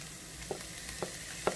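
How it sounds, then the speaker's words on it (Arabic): Minced meat is tipped into a pan for a lasagne bolognese and sizzles over a low frying hiss, with three short soft clinks or scrapes spaced about half a second apart; no one talks. "وتوا باش نصبو اللحم المفروم نتاعنا"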